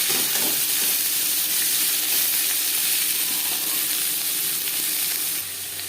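Onions sizzling in oil in a wok for a mourola fish curry, a loud, dense, continuous frying hiss that holds steady and drops off slightly near the end.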